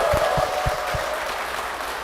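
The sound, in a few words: applause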